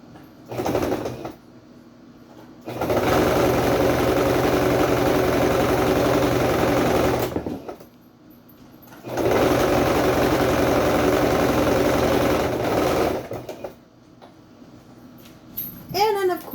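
Sewing machine stitching liner and top fabric together, running in two long steady bursts of several seconds each, separated by pauses in which a voice speaks.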